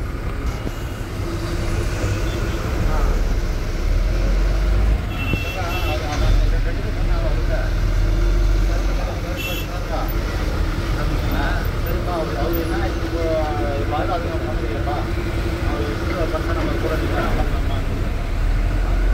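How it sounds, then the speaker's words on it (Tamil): Heavy road traffic crawling along a busy highway service road, a dense continuous rumble of engines with horns and passing vehicles, steady and close throughout, with no voices. "சர்வீஸ் ரோட்டில் கூட டிராஃபிக் ஃபுல்லாக இருக்குது"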